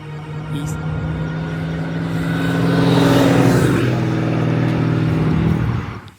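A supercharged 6.2-litre V8 in a 1980s-style family station wagon drones steadily, its revs climbing and swelling louder midway before holding a deep, throaty roar and cutting off at the end.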